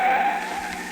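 A taxi's tyres screech in a skid as it brakes hard to a stop during a car chase, a sharp sustained squeal lasting under a second, loud and close.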